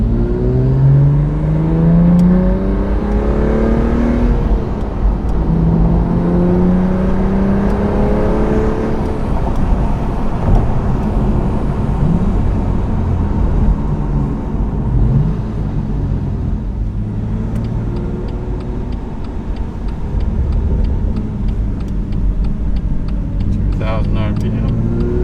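A BMW M2 CS with an Active Autowerke equal-length mid-pipe runs with its exhaust valves closed, a steady, loud engine note that rises and falls through revs in a smooth, subdued drone.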